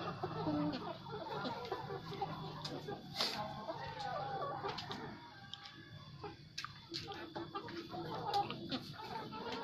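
Sixteen-week-old pullet laying hens cluck softly and intermittently close by in a coop, with occasional rustling and a faint ticking in the background.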